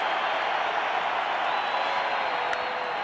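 Baseball stadium crowd at the 1987 World Series, a dense, steady roar of thousands cheering and urging on a go-ahead run, continuous and wall-like with a faint whistle near the end.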